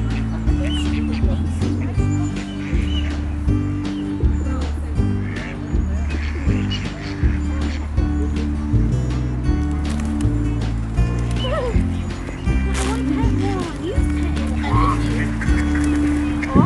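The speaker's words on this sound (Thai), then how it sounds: "เป็ดแยะมากเลย" Many ducks and geese quack and honk continuously in Mesnes Park in Wigan, a dense, busy chorus layered over a steady, droning background.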